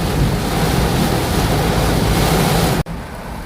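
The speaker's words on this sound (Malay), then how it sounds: "Memandangkan hujan ni tak berhenti-henti, dengan angin dia kuat, dengan ributnya, dengan lebatnya" Heavy rain and strong wind lash down in a thunderstorm, a dense, steady roar close to the microphone that cuts off abruptly near the end before a quieter wash resumes.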